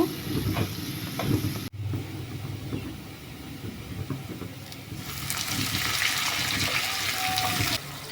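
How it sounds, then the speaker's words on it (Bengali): Chopped onions frying in oil in a pan, a close crackling sizzle with stirring scrapes, briefly cut off and then returning as a fuller, louder hiss. "পেঁয়াজ কুচিগুলো ভালোভাবে নেড়ে ছেড়ে ভেজে নেব"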